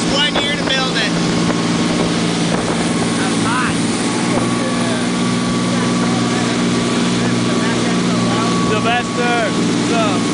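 The Lowrider, a newly built urchin dive boat on its launch run in California, runs at about 30 knots with a loud, steady engine roar mixed with wind buffeting and water rush, while people talk and shout over it.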